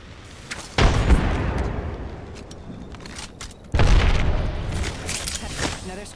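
Two heavy booms from frag grenades in Apex Legends, one early and one about three seconds later, each followed by a long rumbling decay, with game noise and a voice under them.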